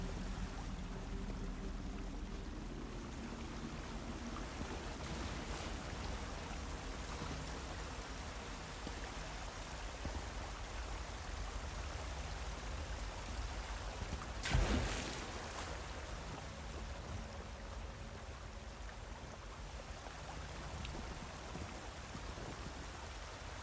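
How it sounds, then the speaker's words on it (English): Steady rushing, splashing water from small waterfalls inside a cave in the video game Elder Scrolls Online, Morrowind DLC, a constant broadband wash throughout with one brief louder burst midway. "This is a cool little cave with all the little waterfalls and stuff."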